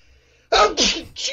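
A single sharp human sneeze, close and loud, bursting in after a quiet moment with a short follow-up exhalation.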